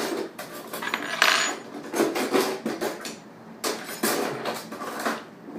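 Butter goes onto a dish with a run of clattering cutlery and crockery, sharp metallic clinks and taps scattered irregularly at close range, with quiet gaps between bursts. No one talks.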